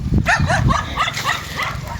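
Several dogs bark and yelp in a quick overlapping series, loud and close, for a couple of seconds.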